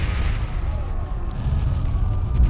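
Low, dull booms rumble continuously like distant cannon fire in the Ys X: Nordics game, a steady heavy thunder with no clear voices.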